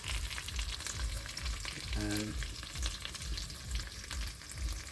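Dried fish (buwad) frying in a pan, a steady close crackling sizzle that runs throughout with a brief tonal hum partway through, and no one talking.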